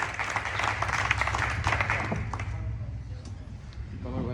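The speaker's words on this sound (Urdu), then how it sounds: "بھرپور تالیوں کے ساتھ" Audience applause at an Urdu poetry gathering (mushaira) held by a bar association literary forum, a dense wash of clapping that swells through the first couple of seconds and then tapers off, with a voice emerging near the end.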